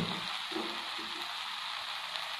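Onion and tomato fry with spices in a pan for Chettinad mutton kola urundai kofta curry, making a soft, continuous sizzle that stays faint and even throughout, without speech.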